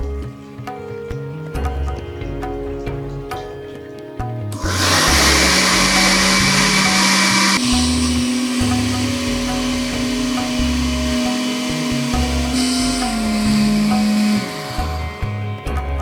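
An electric blender grinds spice powders and water into a smooth paste for an egg curry, switching on with a loud whirring roar that holds for about ten seconds before cutting off, with quieter background sounds around it.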